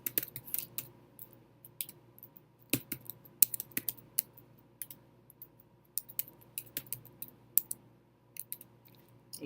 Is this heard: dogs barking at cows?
no